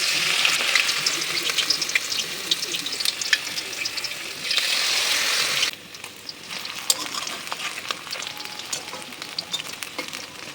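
Jenam leaf pakoda fry in hot oil, a dense crackling sizzle that runs loud for several seconds, then settles into quieter bubbling with scattered pops, heard close and without talk.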